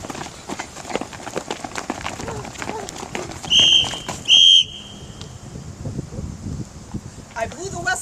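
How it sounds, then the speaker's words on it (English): Two sharp, loud whistle blasts in quick succession on a playground over background chatter and footsteps, with more talking continuing afterward. "I blew the whistle 2 times."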